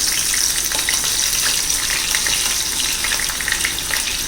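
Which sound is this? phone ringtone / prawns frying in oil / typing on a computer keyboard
prawns frying in oil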